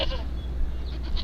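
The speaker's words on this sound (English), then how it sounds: "What is this goat doing here?" A goat bleats once, briefly and fairly clearly, over a low steady hum.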